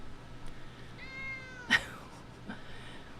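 A cat lets out a drawn-out, insistent meow followed by a sharper loud yowl and a brief softer cry, close to the microphone in a quiet room.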